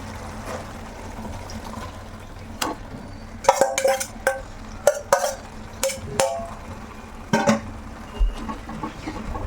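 Fenugreek leaves for lasuni methi being stirred into masala in a pan: a run of spoon scrapes and light metallic clinks, irregular and close, over a soft background hiss with no talking.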